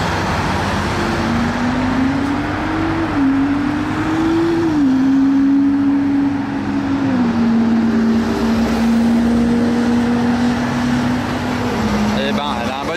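Lamborghini Revuelto roaring past at a Gumball 3000 event in France, a loud sustained exhaust tone that rises and falls slightly in pitch over about thirteen seconds, with traffic noise and voices talking over it.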